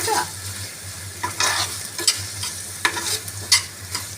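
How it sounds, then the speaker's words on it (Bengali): A spoon stirs curry in a pan with a thickening gravy, giving repeated scraping strokes at an irregular rhythm over a constant sizzle and low hum, close and fairly loud. "এবার এটাকে ভালো করে একটু নেড়ে নিতে হবে"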